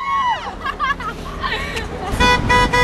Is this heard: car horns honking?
yes